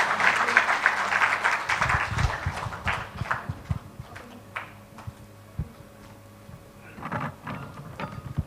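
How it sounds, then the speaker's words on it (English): Audience clapping at a global project management symposium and forum. Irregular claps and scattered bursts come and go over ongoing room noise, louder at the start and again near the end, with no steady full ovation. "Can we clap for them once? A loud clap."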